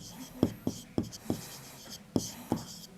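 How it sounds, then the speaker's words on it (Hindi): Pen or pencil writing on paper during a Class 6 geometry lesson, a series of short scratchy strokes in an irregular rhythm, close and fairly quiet, with a soft voice speaking over them. "तो हम लिखेंगे बिंदु P तथा बिंदु O"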